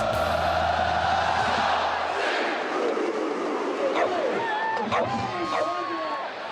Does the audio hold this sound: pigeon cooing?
no